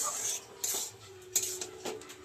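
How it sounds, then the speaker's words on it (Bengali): A spoon stirs and mashes a pumpkin-stem vegetable curry in a metal pot, giving several close, separate clinks and scrapes against the pot. "একটু নাড়া দিলাম, একটু নাড়া দিয়ে একটু ঘেটে দিলাম।"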